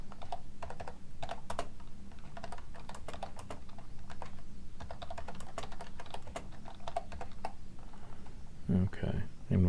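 Typing on a computer keyboard while entering Java code, a close run of quick, uneven key clicks in bursts, with someone talking over part of it.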